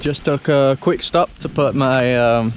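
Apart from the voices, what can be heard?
No distinct noise like a dog, phone or traffic.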